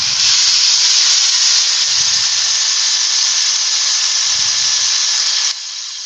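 A drill-mounted sanding arbor whirs in a steady, loud, abrasive hiss for about five seconds, then cuts off abruptly, with no talking.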